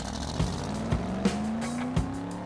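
Diecast toy cars run down a racing track in a tournament heat. A continuous rolling whir rises slightly in pitch and is punctuated by a few regular clacks, probably as the cars cross track joints.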